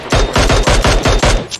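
Rapid automatic gunfire in the battle royale game PUBG Mobile: about seven loud, evenly spaced shots in quick succession, close and clear with no talk over them.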